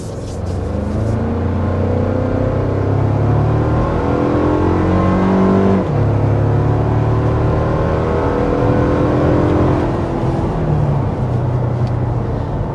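A 2024 Toyota Tacoma TRD PreRunner pickup driving through corners, its engine note rising and falling in steady revving sweeps with road rumble, heard loud and continuous from inside the cab with no talk.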